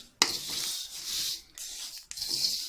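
Sesame seeds roasting in a pan over a low flame give off a close, steady hiss and crackle that comes in bursts separated by brief breaks, as if the seeds were being stirred.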